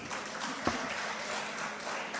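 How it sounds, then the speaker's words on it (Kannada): Audience at a Kannada literary conference in Mandya claps, a steady, fairly distant wash of applause with no clear individual claps standing out. "ಇನ್ನೊಮ್ಮೆ ಚಪ್ಪಾಳೆ ತಟ್ಟಿ."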